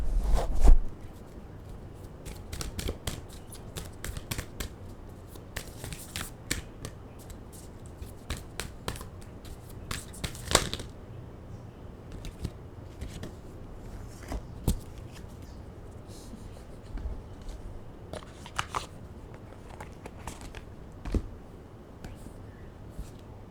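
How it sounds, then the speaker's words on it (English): A deck of cards being shuffled, with riffling bursts and soft papery flicks repeating through quiet room tone, close and fairly faint with no talking. "I'll shuffle and let's see what falls out, because that's how I typically do it."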